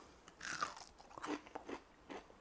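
Someone bites into a crispy homemade onion ring, giving a few close crunches followed by softer chewing, quiet and without speech.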